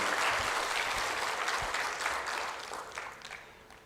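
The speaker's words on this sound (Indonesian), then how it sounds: "berikan tepuk tangan kepada Ibu Embun Sari." An audience at a formal government address claps steadily, a thick, even patter of many hands that fills nearly four seconds before gradually thinning and fading.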